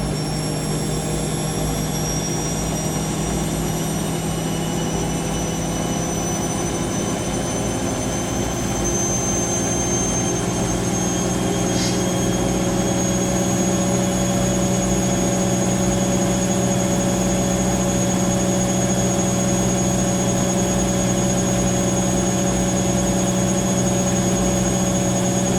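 A Siemens WH54080 washing machine spins at 800 RPM on a 90°C cottons cycle, a steady loud whirring drone with a constant mechanical hum and no talking.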